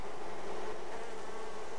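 Honeybees at an open backyard hive, a dense, steady buzzing drone from many bees close by, continuous and unbroken.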